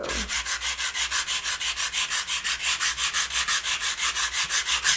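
Sandpaper works back and forth across a wooden sign in a quick, even rhythm of close, raspy rubbing strokes, about five per second with no pauses.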